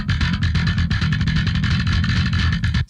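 Bass guitar tone heavily processed with compression and EQ plugins, played as a dense, steady, loud riff with even dynamics, alone with no talking, stopping abruptly at the end.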